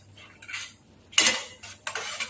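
A spoon stirs lemon juice into a boiling weight loss drink in a pot, with several quick metallic scraping and clinking strokes in irregular bursts, close and fairly loud over a faint background hum.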